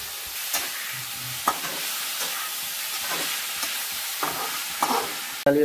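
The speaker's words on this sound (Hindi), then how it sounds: "अच्छा ढंग से भूंजिए मैडम" Tomatoes stir-fried in a pan in a village kitchen, giving a soft steady sizzle with occasional utensil scrapes and clinks, ending in a sharp knock.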